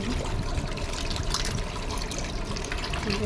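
Cold water pours steadily into a summer sharbat drink, a constant close-up gushing trickle with no pauses for the whole moment.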